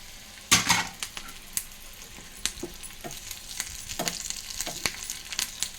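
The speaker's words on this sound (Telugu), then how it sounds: "ఇప్పుడు చూడండి ఎండుమిరపకాయలు వేస్తున్నాను, కరివేపాకు కూడా వేసేస్తున్నాను." Dried red chillies and curry leaves sizzle and crackle in hot oil for a Telugu-style dondakaya fry, with sharp pops and bursts over a steady hiss, close and fairly loud.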